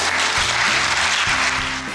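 Audience applause for health professionals at a World Parkinson's Day 2018 event in Lille, a brief burst of clapping with steady tones underneath.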